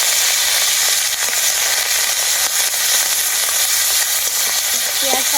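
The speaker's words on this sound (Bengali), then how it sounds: "আমি খুব ভালো করে ভেজে নেব পেঁয়াজ বাটাটাকে" Coarsely ground onion paste frying in hot oil, a loud, dense, continuous sizzle and crackle with occasional stirring, close and steady all the way through.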